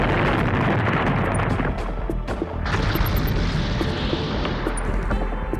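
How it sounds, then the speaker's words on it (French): Dense, continuous rumbling booms and crashes, loud and unbroken, like heavy explosions and gunfire in a nearby battle raging around a building. "Oh, Kurapika, c'est la guerre autour du bâtiment."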